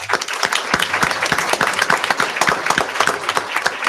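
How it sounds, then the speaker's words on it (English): Applause from an audience at a school board of education meeting, honoring a person and her family: steady, dense clapping that fills the whole stretch alone, with no one speaking over it. "A round of applause, please."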